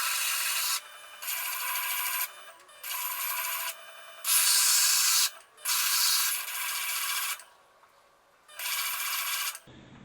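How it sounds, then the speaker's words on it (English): Wet sanding of a ceramic piece turning on a pottery wheel: bursts of loud, close, hissing abrasion lasting about a second each, separated by brief pauses, with no talking. "you always want to make sure that you are wet sanding and never dry sanding, because it will catch on the wheel"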